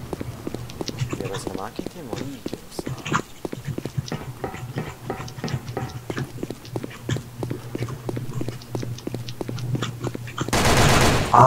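Rapid gunfire in the online shooter Sudden Attack, with repeated sharp shots and bursts crackling throughout, fairly close, while players talk over it, ending in a loud dense burst.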